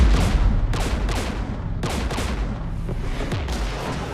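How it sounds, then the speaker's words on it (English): Sustained gunfire and blasts in Mass Effect 3 combat against the Geth, with loud overlapping bursts recurring in waves over a constant heavy rumble. "We're taking fire."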